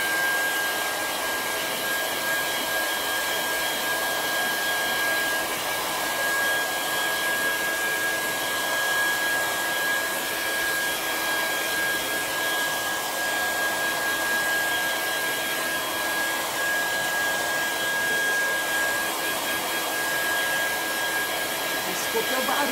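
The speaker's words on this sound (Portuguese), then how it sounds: "nunca bota o secador muito perto" A hair dryer runs continuously at close range, drying fresh paint on an MDF board, its loud steady whine and airflow rush holding unbroken for over twenty seconds with no talk.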